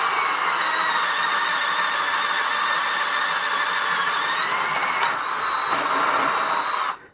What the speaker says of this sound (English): Speed bit into a pressure treated 2x4 with the HART.